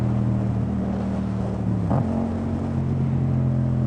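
A Yamaha FZ-07 motorcycle engine drones steadily at low pitch, then its note drops sharply with a brief blip as it downshifts, settling into a new steady hum while riding.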